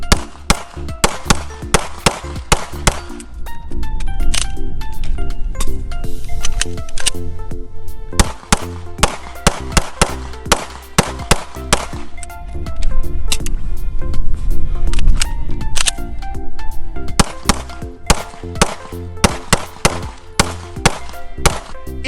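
A 10-round handgun magazine being reloaded and fired, sharp sharp repeated shots in quick bursts with clicks and clatter between strings, loud and close.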